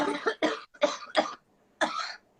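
Several harsh coughs in a row, four quick ones then a short pause and one more, close and fairly loud with no talking.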